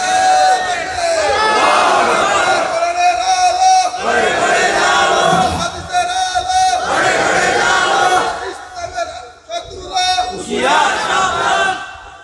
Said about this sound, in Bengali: স্লোগান দেন, নারায়ে তাকবীর বলেন